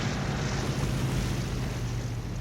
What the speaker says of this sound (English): The plane comes in to land on the water.